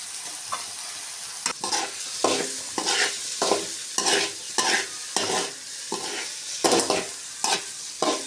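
Paneer, capsicum and tomato sizzle in a pan, with repeated scraping stirs every half second or so cutting through the steady frying hiss, up close and without speech.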